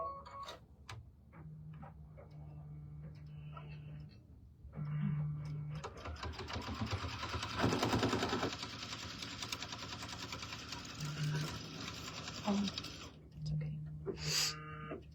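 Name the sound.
sewing machine stitching a fabric table runner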